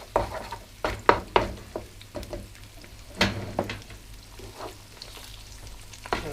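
Egg frying over medium heat in a pan beside onions, with a soft steady sizzle under repeated scraping and clacking strokes of a utensil being stirred and broken up, close by and without talk.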